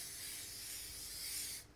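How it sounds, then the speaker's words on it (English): Steady broadband hiss of a spray bottle misting a heated pizza stone, close and continuous for under two seconds before cutting off. "So I'm just gonna spray a heated pizza stone."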